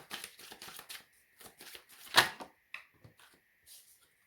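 Oracle cards are shuffled and drawn by hand in a quiet room, giving soft papery riffles and flicks in short bursts and one sharper snap of a card near the middle.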